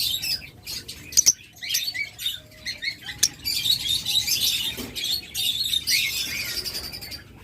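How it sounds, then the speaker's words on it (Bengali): Locally bred pet birds for sale fill the air with a busy mix of squawks, chirps and tweets, near and fairly loud, with overlapping calls and occasional wing flutters and no talking. "চমৎকার মার্কিংয়ের পাখি"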